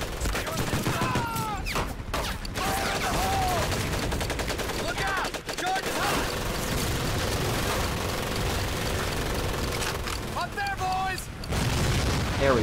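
Dense, loud gunfire fills a Medal of Honor Pacific Assault battle, with continuous rifle and machine-gun bursts, booming explosions and shouting voices in the mix throughout.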